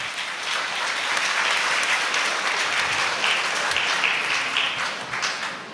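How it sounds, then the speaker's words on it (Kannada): A crowd at a prayer meeting claps loudly in a dense, sustained burst of applause that runs evenly throughout, with no voices over it. "ಎಲ್ಲರೂ ಅವರಿಗೆ ಜೋರಾಗಿ ಚಪ್ಪಾಳೆ ತಟ್ಟಣ"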